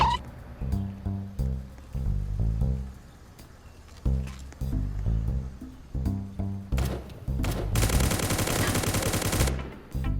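Gunfire in the Roblox game Survival Zombie Tycoon: shots crack over looping game music, ending in a dense burst of rapid fire near the close.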